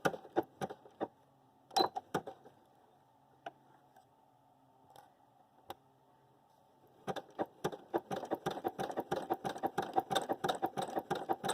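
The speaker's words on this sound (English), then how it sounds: "you're going to sew around a curve" Domestic sewing machine stitching fabric around a curve while sewing a garment, with short bursts and isolated ticks early on, then a steady rapid run of needle clatter.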